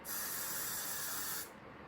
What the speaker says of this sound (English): So I just spray it on the actual brush